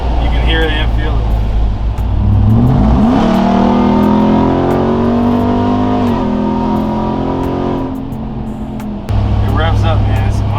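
A 2021 Ram TRX with Hellcat upgrades and Hellcat exhaust revs its engine loudly nearby, a deep rumble rising to a sustained roar before settling back to idle, with people talking over it.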